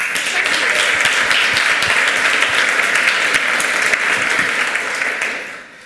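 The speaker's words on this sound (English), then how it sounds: "Give him a warm round of applause." Conference hall audience giving a speaker a warm welcome, loud, dense and steady clapping from a large crowd that tapers off at the end.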